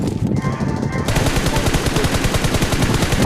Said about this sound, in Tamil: சும்மா கவர் ஃபயர் அடிக்கிறான்